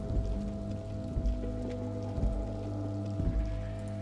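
Rain falls steadily in the video game Disco Elysium, a soft continuous patter layered over low sustained ambient drones, with no voices.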